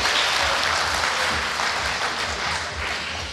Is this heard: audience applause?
yes